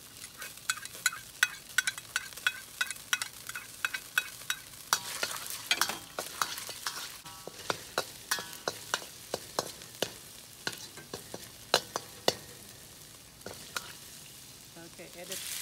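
Garlic fries in hot olive oil in a wok for Chinese takeout beef and broccoli, a steady close sizzle broken by frequent sharp scraping and clanking of a utensil stirring the pan.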